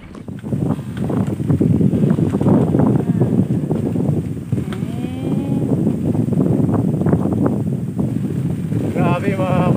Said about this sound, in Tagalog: Pero ayan na yung hangin.